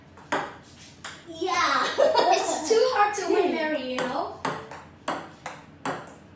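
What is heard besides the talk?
ping pong ball bouncing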